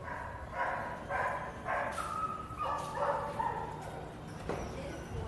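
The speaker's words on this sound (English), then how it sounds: "Now we're going to go to the doggies down this way." Dogs barking at a kennel club greyhound racetrack, several short yipping barks in a loose cluster, a bit distant, over a busy ambient crowd murmur.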